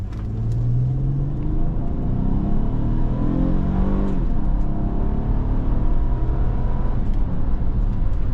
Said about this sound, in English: this naturally aspirated V6 gets the vehicle up to speed